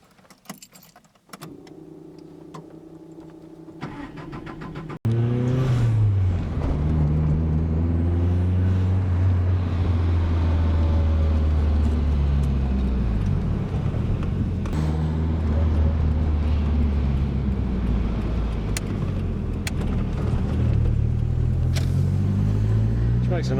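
A Nissan DR30 Skyline 2000 Turbo RS-X with its FJ20 turbo engine: a few quiet clicks, then the starter cranks and the engine catches at once and settles into a steady, loud idle, with a voice faintly heard.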